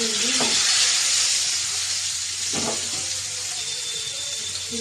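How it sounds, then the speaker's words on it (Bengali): Boiled, peeled potatoes fry in hot oil, a steady, loud hiss of sizzling with a couple of brief clinks from stirring, close and continuous with no talk. "আলুটা ভাবছি একটু ভেজে নেব তো পরে একটু দিয়েছি তেল সেদ্ধ আলু"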